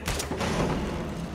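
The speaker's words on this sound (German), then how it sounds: "Versehentlich Schuss ausgelöst." A single gunshot goes off by accident in the action video game Uncharted 4, a sharp crack followed by a short rumbling echo that fades within about a second.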